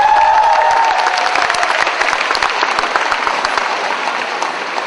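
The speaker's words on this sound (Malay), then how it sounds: "Kita beri tepukan kepada Timbalan Perdana Menteri Yang Amat Berhormat Muhammad Syafiq Musa." Audience applause in a debate hall, a full burst of many hands clapping that opens over a fading tone and then thins into scattered, distinct claps toward the end.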